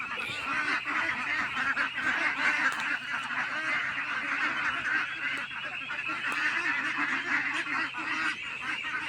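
Ducks at a small farm's duck house, a dense continuous chorus of quacking and honking calls from many birds, close and loud throughout with no talk.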